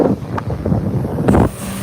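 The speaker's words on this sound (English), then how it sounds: "Kind of windy out here today." Gusty wind buffets the microphone outdoors on a city plaza with street sweepers nearby, a steady low rumble that swells into a louder gust near the end, with no talk.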